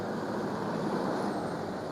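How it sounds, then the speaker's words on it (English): Cars pass along a main road in Hua Hin, Thailand, early in the morning, producing a continuous broad roar of traffic close by with no talking over it. "I'll let these cars pass."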